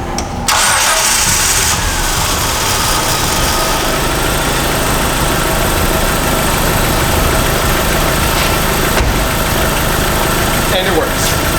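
Dodge Neon engine, just back together after a head gasket job, cranks and fires up, then settles into a loud, steady, slightly rough idle heard up close.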